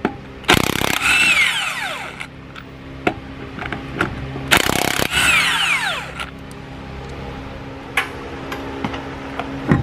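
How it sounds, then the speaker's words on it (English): An impact or power tool spins lug nuts off a Ford F-150 wheel, with two loud whirring bursts of about a second each and a rising, falling pitch. Quieter clicks and ticks fill the gaps, and nobody talks. "Now, we will need to take the lug nuts off to take the wheel off."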